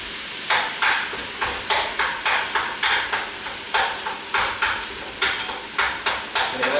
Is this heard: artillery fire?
no